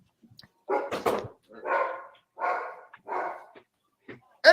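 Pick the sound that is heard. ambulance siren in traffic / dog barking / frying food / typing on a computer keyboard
dog barking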